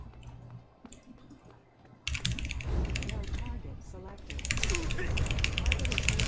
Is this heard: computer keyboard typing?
yes